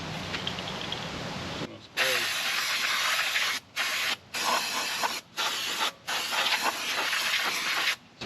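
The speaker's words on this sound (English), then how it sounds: "Some brake clean in there." Brake cleaner is sprayed onto the front brake of a 2017 Hyundai Santa Fe Sport during a rotor replacement, giving loud close hissing bursts broken by several short pauses.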